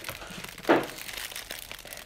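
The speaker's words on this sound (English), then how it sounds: "So let me unwrap it then" Plastic packaging around an anime figure gives one sharp crinkle as it is pulled open, close and brief against a quiet room.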